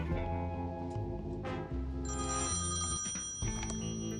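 A telephone rings repeatedly inside a bank in the adventure game Thimbleweed Park, insistent bell trills layered over steady game music, loud and close with no talking.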